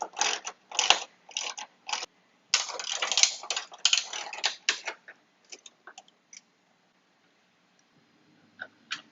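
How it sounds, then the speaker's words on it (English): A ratchet clicks in quick repeated bursts while a bolt is worked loose and removed on the driver's side of a 2016 Ford F150. Loud, close clicking comes first, then a few sparse, quieter ticks. "and then we need to actually remove this bolt."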